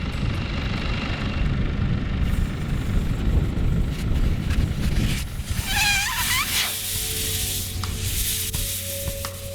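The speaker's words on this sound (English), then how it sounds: "Airing tires up and down is a necessary part of off-roading in Iceland." Air hisses steadily from off-road vehicle tires as they are aired down in Iceland, a loud close rushing noise with wind-like roar and some brief squeaky sounds partway through.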